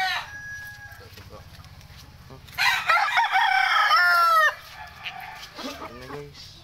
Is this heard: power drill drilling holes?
no